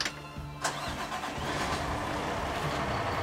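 A fire truck's diesel engine, Engine E451, shifts into pump gear with a brief clunk and a rise in engine noise, then settles into a steady, close, loud rumble with no talking.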